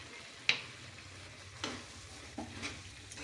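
Soya chilli ingredients with Kashmiri chilli, pepper powder and sugar are stirred in a pan, giving a soft, low sizzle with a few sharp spatula taps and scrapes spaced about a second apart.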